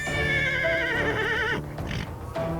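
A horse whinnies close and loud, a long quavering neigh lasting over a second and a half, followed by a few snorting, rustling sounds and a brief high note at the end.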